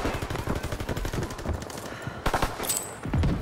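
Rapid bursts of machine gun fire crackle through a war battle scene, steady and dense throughout, with shouted commands nearby and louder volleys near the end.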